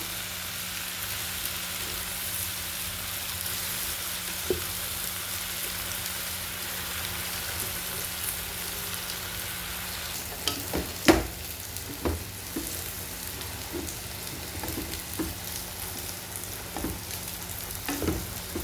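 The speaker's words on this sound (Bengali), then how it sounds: "দিয়ে দিচ্ছি শাকগুলো" Jute leaves with salt fry in a hot pan, a steady soft sizzle throughout, joined in the second half by scattered scraping and clicking as the greens are stirred.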